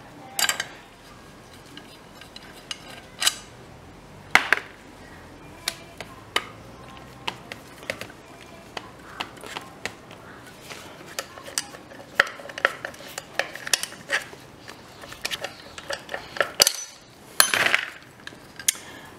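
Rear drum brake shoes coming off a Yamaha XJ650: irregular, close metallic clicks, clinks and light clanks of parts being handled, with no talking.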